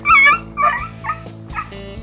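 A dog that has just sat on an electric fence around a horse paddock track whimpers and yips in several high, wavering cries, loud and close, fading into softer whines.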